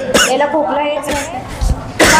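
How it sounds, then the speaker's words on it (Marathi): A young man playing a tuberculosis patient in a nursing college skit gives several loud, close coughs in short bursts, with speech between them. "खोकला येतो"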